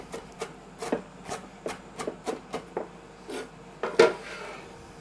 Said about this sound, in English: So first I'll just give it a coarse little chop.